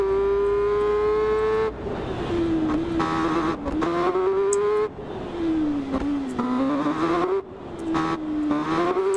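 Kawasaki ZX10R superbike in a racing video game, its engine whining loudly and continuously as it accelerates, pitch climbing and dropping with each gear shift, with brief cuts between runs.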